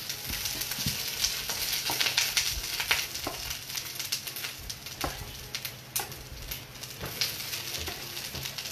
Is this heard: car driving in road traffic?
no